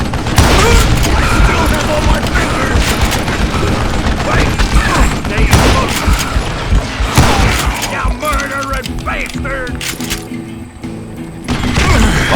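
Rapid gunfire in the Western shooter Call of Juarez: Gunslinger, dense bursts of shots and booms crowding together at close range, with a voice talking over the shooting.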